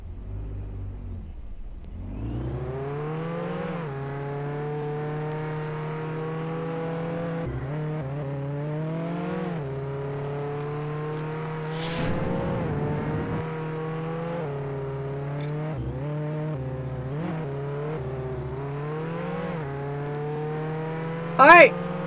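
A car engine hums and revs in the Roblox Jailbreak video game, a steady tonal drone with rising pitch sweeps through gear shifts, loud and close throughout, with a couple of brief sharp noises along the way.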